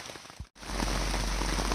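Rain falling at a campsite on the Appalachian Trail, a brief dropout, then a steady, dense patter on a surface that holds evenly close by.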